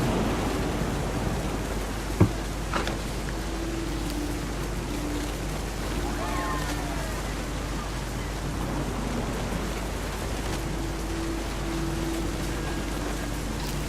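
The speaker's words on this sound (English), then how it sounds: "The thunder sounded much too close and full of angry power" Steady rain hisses throughout with low rumbling thunder beneath, plus one sharp crack early on; a constant, fairly loud wash of noise with no clear speech.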